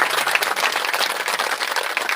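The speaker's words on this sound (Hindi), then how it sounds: "एक बार पुनः जोरदार तालियों से आदरणीय अध्यक्षा जी श्रीमती नीलम जी अग्रवाल का स्वागत करें।" An audience at a women's day gathering applauds loudly and steadily, dense close clapping from many hands welcoming the chief guest, with no talk over it.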